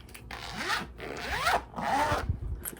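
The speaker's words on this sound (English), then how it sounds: "Got the cross on the zipper." Zipper of a bag decorated with a small cross pull being drawn back and forth in three quick rasping strokes, close and crisp, with no talking.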